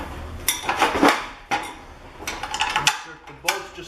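The metal head section of a Gap Power shingle hoist slides onto its frame with a few scraping clanks and metallic knocks, close by, with a voice speaking briefly.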